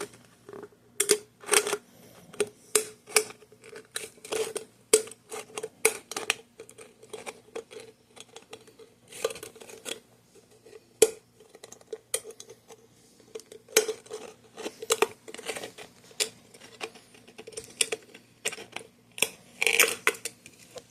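A scored aluminium pop can is worked open around its rim, giving close, irregular crinkling and sharp metallic crackles in quick uneven bursts against near silence.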